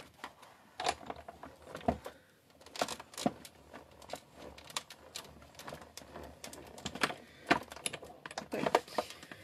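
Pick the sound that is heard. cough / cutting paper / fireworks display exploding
cutting paper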